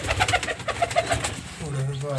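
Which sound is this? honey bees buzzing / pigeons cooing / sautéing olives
pigeons cooing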